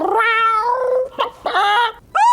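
A cartoon creature that is half chicken, half cat lets out a series of loud, close, drawn-out meows and yowls. Four wavering calls come in quick succession with short gaps between them, and there is no talking.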